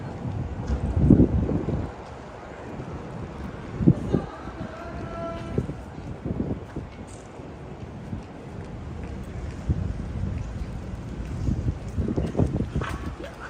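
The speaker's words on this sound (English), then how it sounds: "this wind really makes the walk quite unpleasant, to be honest." Strong gusty wind buffets the microphone on a morning walk along a Tokyo street, a steady low roar that rises and falls in repeated surges throughout, with faint street sounds underneath.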